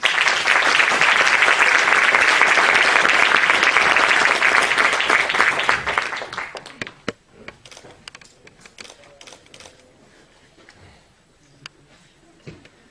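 An audience at a public event in La Unión gives the official chronicler a loud round of applause that holds strong, then fades after about six seconds into scattered claps and quiet room noise.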